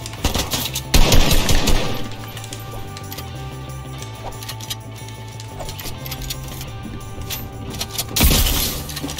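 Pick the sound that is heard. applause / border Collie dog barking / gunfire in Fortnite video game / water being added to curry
gunfire in Fortnite video game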